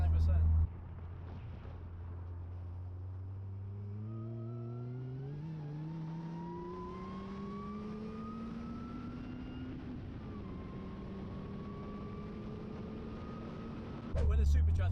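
A 350 bhp supercharged Honda Accord accelerates hard from inside the cabin, engine drone and a rising supercharger whine climbing through the gears, loud and continuous, with a brief voice at the start and end.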